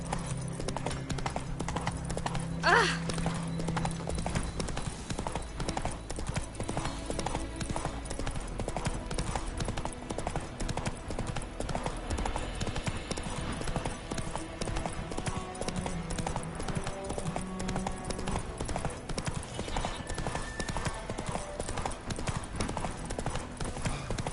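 Horse hooves clip-clop in a steady, continuous rhythm throughout, loud and close, with faint background game ambience and an occasional brief voice, as a mount travels a road in the video game The Witcher 3.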